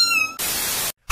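A short, high-pitched meow followed by a burst of static-like hiss, then silence.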